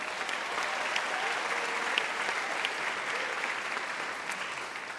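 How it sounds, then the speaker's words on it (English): An audience at a Broadway San Diego awards show gives a round of applause, a steady wash of many hands clapping at moderate distance, sustained evenly throughout without voices. "Let's give them all a round of applause."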